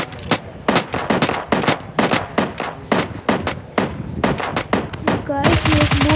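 Rapid bursts of automatic gunfire in PUBG Mobile Lite aimed at a boat, loud and close, firing in quick repeated volleys before a voice begins talking near the end.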